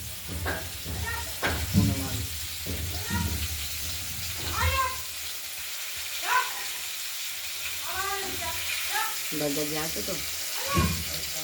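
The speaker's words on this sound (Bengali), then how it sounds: "মাছগুলো ভাজা করে নিচ্ছি।" Live-cut katla fish pieces frying in oil make a steady background sizzle, while a cat meows repeatedly and clearly over it.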